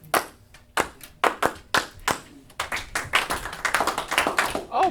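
A teacher claps a rhythmic pattern in a classroom to quiet the class, sharp close hand claps in uneven groups at first, then a denser run of claps joined by the class, with a few voices mixed in.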